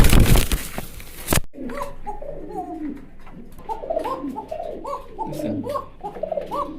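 A fancy racer pigeon coos repeatedly at close range in a bird farm, deep rhythmic throaty calls following a short burst of louder noise at the start.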